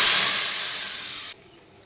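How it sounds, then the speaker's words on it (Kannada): Curry leaves and mustard seeds sizzle in hot tempering oil for a pumpkin sambar, a loud close hiss that slowly fades, then drops abruptly to a faint simmer. "ಕರಿಬೇವು ಮತ್ತು ಸಾಸಿವೆ ಒಗ್ಗರಣೆ ಕೊಡಿ."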